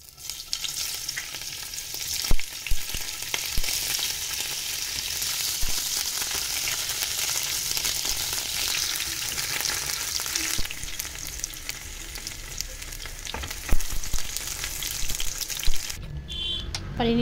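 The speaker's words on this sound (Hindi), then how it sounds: "सबसे पहले तो मैं पनीर फ्राई करूंगी इसमें" Paneer frying in oil in a nonstick kadai, a steady close sizzle with occasional stirring clatter and scrapes, ending in a brief quieter moment.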